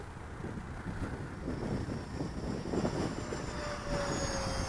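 A Freewing Stinger 64mm RC electric ducted-fan jet makes a fast pass, its whooshing whine rising and fading through steady wind noise at an outdoor flying field.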